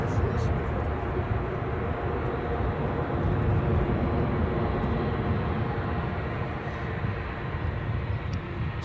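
A Boeing 757 airliner moves at Edinburgh airport, a steady, broad jet engine roar heard from a distance that stays constant throughout, with faint talk beneath.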